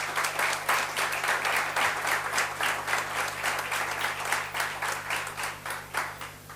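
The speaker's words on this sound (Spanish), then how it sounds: "Fuerte aplauso." An audience at a higher-education graduates' conference gives steady, dense applause after a panel speech. The clapping is loud and sustained with no talk over it.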